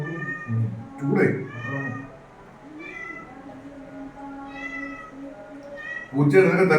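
A cat meows repeatedly for food at close range, its drawn-out, wavering cries mixing with a person talking nearby.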